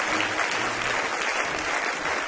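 A church congregation claps together in a dense, continuous burst of applause that fills the room, steady and fairly loud throughout.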